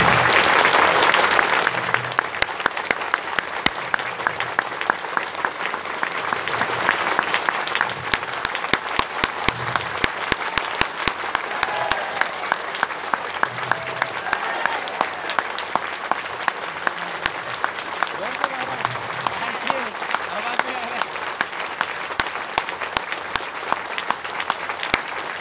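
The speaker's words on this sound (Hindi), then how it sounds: "आप सब लोग गुरु जन्म दिवस के उपलक्ष्य में 1-2 मिनट तक जोरदार से तालियां बनाएंगे" An audience at a guru's birthday celebration claps loudly and steadily for over twenty seconds, a dense, continuous wash of applause with sharp individual claps standing out throughout.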